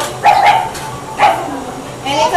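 A person imitates a dog barking as Clifford the big red dog while reading a picture book to preschoolers, giving three short, lively yips and woofs spaced through the moment, close and fairly loud.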